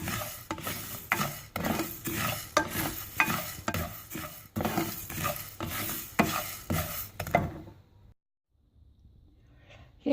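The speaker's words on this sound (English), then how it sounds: "You have to roast these things." Spices with fenugreek seeds are roasted and stirred in a pan for chilli pickle masala, rhythmic dry scraping strokes at a steady pace over a light sizzle, then the sound stops abruptly and near-silence follows.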